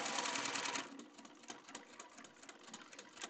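A sewing machine stitches a seam in a rapid mechanical whir that runs loudly for a moment, then slows into softer, uneven bursts of stitching.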